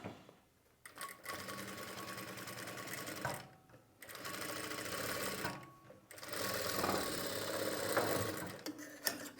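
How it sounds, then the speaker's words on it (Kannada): A sewing machine stitches a lining in place along the neck edge of a garment, running in three steady bursts separated by brief pauses, with a close, even mechanical whir. "ಹಾಕ್ಕೊಂಡ ನಂತರ ನಾರ್ಮಲ್ಲಾಗಿ ಈಗ ಸ್ಟಿಚ್ ಮಾಡಿ"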